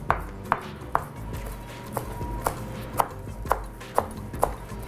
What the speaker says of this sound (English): So let's get some of our fresh parsley chopped.